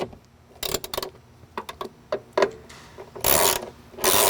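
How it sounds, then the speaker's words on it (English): A hand ratchet snugs the bolts on a Jeep JKU Rubicon door hinge, giving close, sharp clicking bursts in short uneven runs with brief pauses between strokes. "go ahead and ratchet them down to where they're snug"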